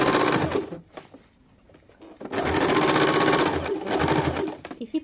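A sewing machine stitches a semi-salwar in two runs, a loud steady whirring burst, a pause of near quiet, then a longer continuous stretch that ends in short stuttering stops.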